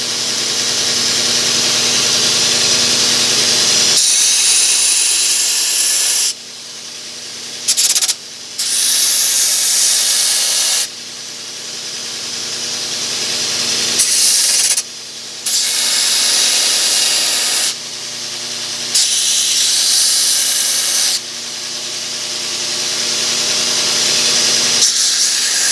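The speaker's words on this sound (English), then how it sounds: "I'm gonna grind the teeth off that thing first." Grinder cutting the teeth off a steel saw blade being made into an ulu knife, a loud continuous hissing grind broken by several short pauses and restarts, close up with no talk.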